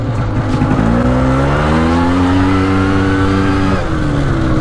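Two-stroke Kawasaki KX80 dirt bike riding and revving, its engine climbing in pitch in a long rising rev, holding high, then dropping off, loud and close with no talk.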